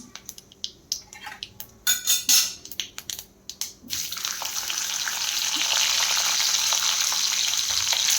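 A pan of stuffed capsicum peppers with turmeric and cumin sizzles steadily and close after a few sharp clinks and scraping stirs at the start, the frying hiss rising and holding to the end.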